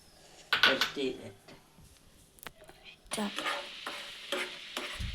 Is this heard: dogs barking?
no